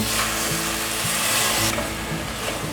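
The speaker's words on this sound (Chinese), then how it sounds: "把调味料炒均匀" Pumpkin seasoned with rose salt, white pepper and soy sauce hisses in a ceramic pot as it is stir-fried, a close, steady sizzle with soft scraping strokes throughout.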